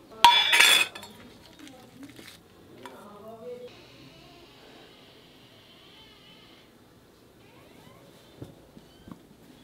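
A plate is picked up and handled at a home Ganesh Chaturthi offering, giving a sharp clink and clatter at the start, then softer scrapes and taps, with a faint tonal hum and quiet voices in the background.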